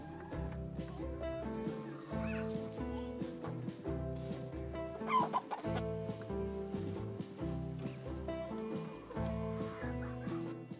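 Chickens cluck in a backyard coop, soft and intermittent, set against steady background music that plays throughout.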